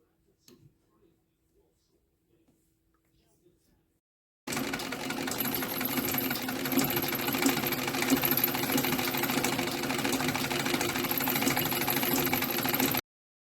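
A Singer 66 sewing machine winds a bobbin, a steady mechanical whir that starts abruptly after a few seconds of near silence and runs evenly, close and moderately loud.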